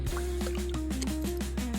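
Water drips rapidly and rhythmically, several drops a second, over a steady flowing trickle from a village field water source.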